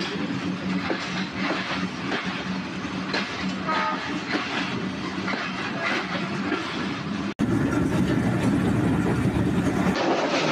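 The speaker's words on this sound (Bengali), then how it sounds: "আমাদের ট্রেনটি এখন মাদনগরের উদ্দেশ্যে নাটোর থেকে রওনা দিয়ে দিল।" Varendra Express passenger train pulling out of Natore, a steady loud rumble of wheels and carriages with rhythmic clatter that swells louder near the end, no voices.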